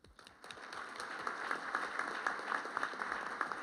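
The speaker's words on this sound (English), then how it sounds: "You can applaud." An audience at a Michigan Senate debate applauds, a faint, steady patter of many hands clapping that builds slightly and holds at a distance.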